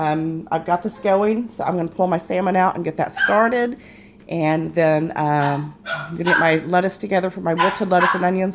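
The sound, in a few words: dogs barking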